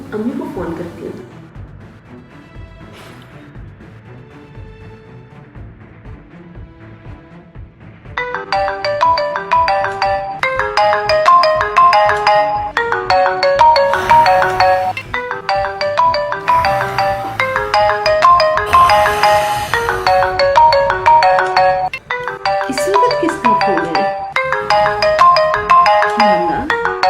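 A phone ringtone plays a loud, repeating melodic pattern during a call to a mother, starting softly and then swelling into steady rhythmic phrases that continue to the end.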